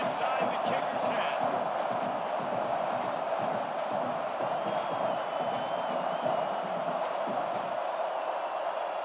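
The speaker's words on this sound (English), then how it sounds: "This crowd trying to do its part to get inside the kicker's head." A stadium crowd at a Texas vs Arizona State college football game roars in a steady, dense wash of noise, distant and sustained, with a faint voice drifting over it.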